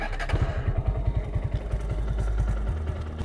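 A motorcycle engine cranks and catches, its starter and firing pulses giving way to a steady, close idle with a rhythmic clatter.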